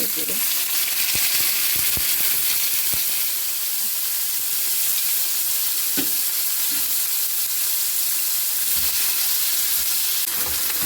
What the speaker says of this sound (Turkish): fasulyelerimi biraz soteleyeceğim. Yağım da biraz ısındı. Hemen ben fasulyelerimi e, yağla boşaltmak istiyorum şöyle